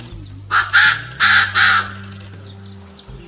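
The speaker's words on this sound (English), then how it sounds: "The territorial call of these pheasants, from which their name is derived," Loud territorial calls of a Koklass pheasant ring out in two close pairs of harsh, crowing bursts, with quieter chirping birds behind them and no voices.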